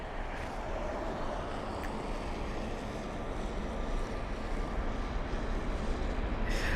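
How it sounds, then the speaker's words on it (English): An Aer Lingus A320neo jet lines up on the runway at London Heathrow, a steady broadband engine roar heard from a distance under wind noise, swelling slightly toward the end. "We've got the Aer Lingus 320 Neo lining up on the runway now as well."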